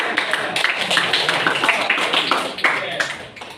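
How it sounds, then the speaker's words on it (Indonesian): Classroom group clapping in a short burst of dense applause, close and loud for a few seconds before tapering, with voices mixed in. "Tepuk tangan."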